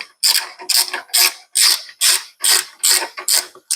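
A ratchet cranks in quick, evenly repeated bursts about twice per second, each a short clicking rasp, close and loud, while a bolt with spacers is started on a Harley Touring external breather catch can.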